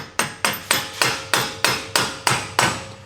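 Nine sharp, evenly spaced hammer blows ring out close up, tapping a seized Nissan 370Z axle out of its hub, each strike metallic and decaying quickly before the next.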